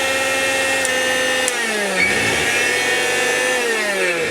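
A powerful electric blender runs continuously with a steady, loud, high motor whine rich in overtones; its pitch dips and shifts briefly partway through, with no talking.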